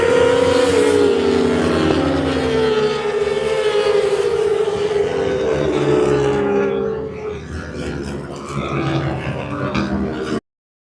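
Motorbike and sidecar racing at Snetterton on a hot summer day: loud, sustained engine whine from passing outfits, sweeping down in pitch as they go by, then settling into rougher, distant revving before cutting off.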